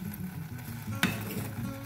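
A pot of baião de dois with cream is stirred as it sizzles, a soft continuous scrape with one sharp utensil tap on the pan, close and without talk.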